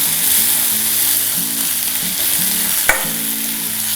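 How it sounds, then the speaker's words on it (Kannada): Drumstick greens tossed into onions frying in oil in a pan, giving a steady, loud sizzle with stirring scrapes throughout and one sharp utensil knock near the end; no voices. "ಈರುಳ್ಳಿ ಸ್ವಲ್ಪ ಕೆಂಪಾಗಾದ ಮೇಲೆ ಮಿಕ್ಕ ಸೊಪ್ಪನ್ನು ನಾವು ಹಾಕ್ಕೊಳ್ಬೇಕು"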